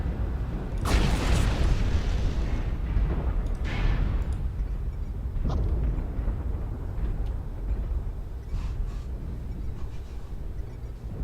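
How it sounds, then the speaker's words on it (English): Airstrike explosions in the MechWarrior Online video game erupt as heavy booms: a loud blast near the start, another a few seconds later, then a sharper hit, each trailing off into a low rumbling roar. "Airstrike online. Airstrike activated."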